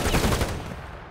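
Video game gunfire, heard as a dense burst of loud rapid shots in close succession that tapers off in the final half second, with no clear talking.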